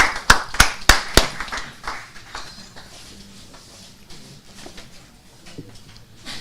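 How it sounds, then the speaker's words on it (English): At a press conference, a few sharp, close handclaps in quick succession, then scattered fainter clapping that thins out into quiet room noise. "Let's give him a round of applause."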